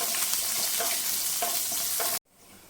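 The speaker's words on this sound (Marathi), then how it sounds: "मिरच्या छान अशा परतून घ्यायच्या" Finely chopped green chillies frying with bloomed cumin in a pan, a dense, loud sizzle with faint stirring scrapes that cuts off abruptly near the end.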